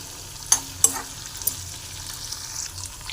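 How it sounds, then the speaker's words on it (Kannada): Capsicum and curry leaves fry in a pan with a soft, steady sizzle, broken by a few sharp stirring clicks early on; no voices. "ಈಗ ಇದು ಫ್ರೈ ಆಗ್ತಿದೆಯಲ್ಲ"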